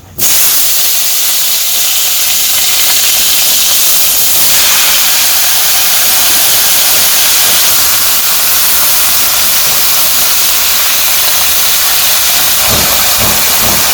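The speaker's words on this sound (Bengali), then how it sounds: "সবজিগুলো দিয়ে দিই।" Vegetables hitting hot oil with cumin in a wok for a simple village-style fish and vegetable meal, giving a loud, steady sizzle and hiss that holds unbroken for the whole stretch with no talking.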